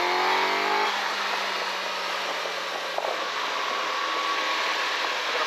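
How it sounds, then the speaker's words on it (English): Suzuki GSX-S1000GX+ inline-four motorcycle engine accelerating on the road: a rising, smooth high-revving whine that shifts and then settles into a steady roar under heavy wind rush, continuous and close, no talking. "It's got a nice inline 4 sound on this bike."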